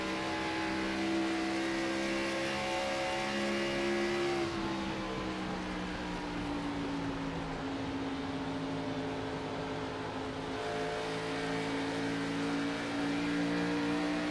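Stock cars in the Music City 130 race produce a continuous engine roar with shifting pitch, rising and falling as cars run close together through the corners and down the straight.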